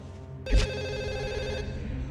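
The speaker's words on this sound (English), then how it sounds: "I'm now using the phone to call the engine room" A telephone rings in an engine room in the PS2 game Forbidden Siren 2, a sustained bright electronic ring that starts with a sharp thump and holds steadily, with no talk over it.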